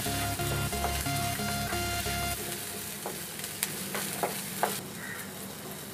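Onion, cinnamon pieces, ginger, garlic and cardamom frying in a kadai for kadai paneer, a loud steady sizzle close up, with stirring scrapes and occasional clinks of the spoon against the pan.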